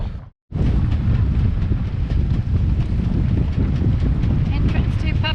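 Strong wind buffets the microphone in loud, continuous gusts after a brief drop-out, with water and boat noise beneath, on a fishing boat nearing Papeete harbour.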